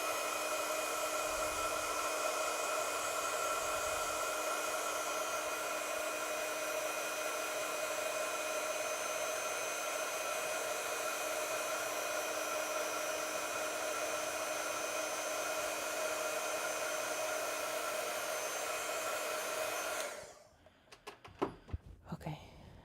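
A hair dryer blows steadily on a watercolor painting of flowers, a constant close whir lasting about twenty seconds before it cuts off, followed by a few faint knocks and handling sounds.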